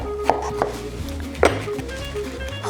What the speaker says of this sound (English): You turn it over and take a knife, and you're gonna cut a square around the stem